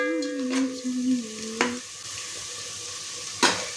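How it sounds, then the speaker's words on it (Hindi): Onions and chilies frying in a pan give a gentle sizzle with occasional stirring scrapes, under a tonal sung or musical line in the background; no speech. "प्याज और मिर्च हमारे बहुत अच्छे से फ्राई हो गई है"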